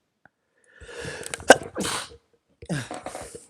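A single close sneeze, a sharp intake and burst, then some faint movement noise.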